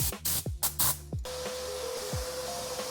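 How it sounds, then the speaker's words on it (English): Compressed air blasts out dust from the leather seats, air vents and dashboard of a C6 Corvette interior, several loud hissing bursts in quick succession early on, then a quieter background. "First I'm going to blow out all the dust out of the seats, areas like the air vents and the dashboard."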